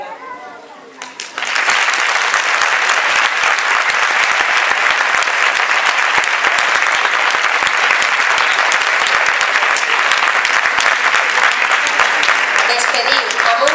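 A large audience breaks into loud, sustained applause at a Valencian Falla exaltation ceremony. The dense, steady clapping runs for over ten seconds and follows a brief stretch of speech at the start.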